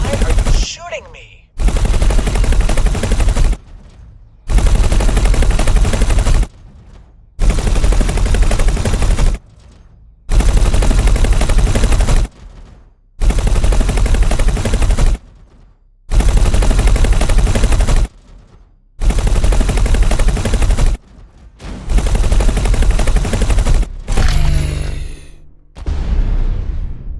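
Ship weapons fire in X4: Foundations, rapid sustained bursts of automatic gunfire in about ten long volleys separated by short silent gaps, loud and close, ending with a brief sweeping whoosh.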